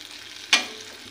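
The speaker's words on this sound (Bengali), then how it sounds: "মরিচের ফালি ফালি করে কেটে নেড়ে নিচ্ছি, যাতে রসুনের কাঁচা গন্ধটি দূর হয়ে যায়।" Sliced chili and chopped garlic stirred and fried in a pan, giving a steady soft sizzle with one sharp scrape of the spoon partway through.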